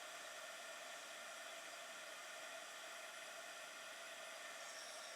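A heat tool blows steadily to melt embossing powder on a card, a faint, even hiss that stays constant throughout with no talking.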